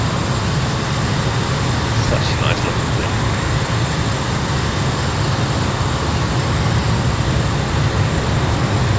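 A Eurofighter jet taxis in Microsoft Flight Simulator 2024, its engines a loud, steady, even roar throughout while someone talks over it.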